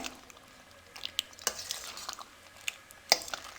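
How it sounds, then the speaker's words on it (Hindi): Dahi bhalla dumplings are gently stirred into yogurt with a spoon, giving soft wet squelches and a few sharp clinks of metal against the bowl, close and quiet. "अब इनको हम अच्छे तरीके से मिक्स करेंगे ताकि ये दही में अच्छे से मिक्स हो जाएं"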